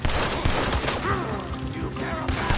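Rapid video game gunfire in a chaotic shootout, bursts of shots and crashes filling the scene, with characters shouting over the dense, continuous firing.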